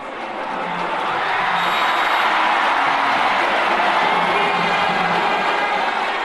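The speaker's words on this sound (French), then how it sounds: "Il y a le public qui m'applaudit" A large outdoor crowd at a wrestling bout cheers and applauds the wrestler Bombardier, a dense, steady roar of voices and whoops that swells in and holds loud throughout.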